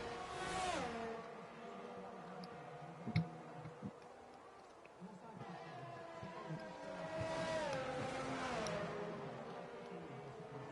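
Race cars in a racing video game at the Japan circuit rev and whine through gear changes at close range, engine pitch rising and falling over a steady drone, with a few ticks and clicks.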